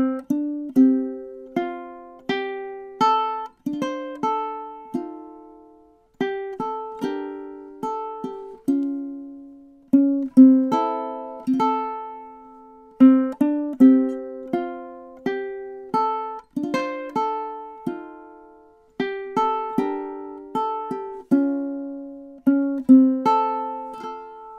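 Ukulele plays the verse of a song slowly and cleanly, a steady run of plucked notes and chords, each decaying quickly, close and alone for the whole passage.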